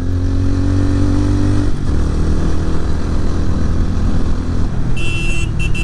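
A motorcycle ridden along a winding mountain road toward Lamang near the border beyond Mechuka carries a loud, continuous engine drone close by, with a shift in tone partway through and faint higher whines near the end, with no talking.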